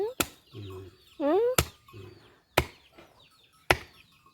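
Organic country duck meat is chopped with a cleaver on a board, four sharp separate strikes spaced about a second apart, with a nearby rooster-like call and murmured voices between the blows.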